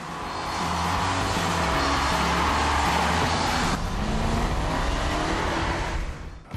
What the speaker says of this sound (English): The automatic shifts gears lightning fast, and the engine makes a sound that, while not quite as raw as the Jaguar and the Maserati,